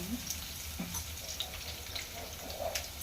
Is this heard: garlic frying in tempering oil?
yes